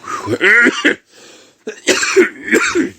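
Several harsh, close coughs in quick bursts, separated by a short pause, with throaty rasping between them.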